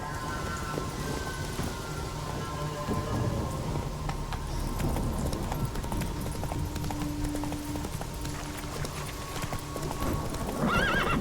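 Roach the horse in Witcher 3 trotting with steady clip-clop hoofbeats and a whinny, set against a dense bed of rain and ambient game sound.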